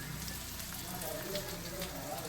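Something frying gently in a pan on low heat while cooking an Assamese-style greens dish, a faint, steady sizzle heard close up with no talking over it.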